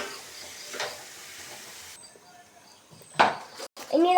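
Masala with vegetables sizzles as it is sautéed and stirred in a pan for chapati noodles, a steady, soft frying hiss broken by a few stirring scrapes, with a voice speaking over it.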